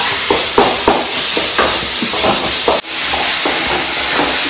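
Chicken frying in a pan, giving off a loud, steady, close sizzle with rhythmic scraping as it is stirred, broken by a brief dip before the hiss resumes.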